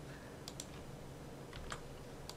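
A few quick, faint key clicks on a computer keyboard entering 3ds Max shortcuts, sounding as short separate taps and pairs against a quiet background hum.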